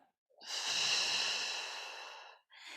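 A long, steady exhale of breath during a yoga stretch, close and breathy, swelling then fading over about two seconds, followed by the start of another breath.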